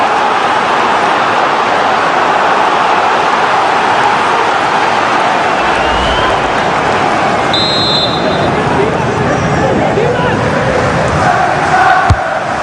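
Stadium crowd roar from the EA FC 25 football game during a Chelsea versus Manchester United match, a dense, steady wall of cheering and murmur building with tension, heard loud and continuous throughout.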